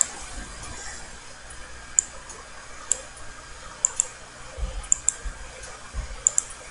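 Computer mouse clicks, sharp and fairly close, coming in a sparse irregular series of single and double taps against a quiet room background.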